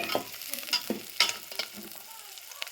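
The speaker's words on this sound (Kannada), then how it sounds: "ಉಳ್ಳಾಗಡ್ಡಿ ಹಾಕಿನ್ರಿ ಉಳ್ಳಾಗಡ್ಡಿ ಒಂದು ಸ್ವಲ್ಪ ಗೋಲ್ಡನ್ ಕಲರ್ ಬರೋ ಫ್ರೈ" Chopped onions fry in a home kitchen pan with a soft, crackling sizzle, broken by light stirring scrapes, heard close and fairly quiet.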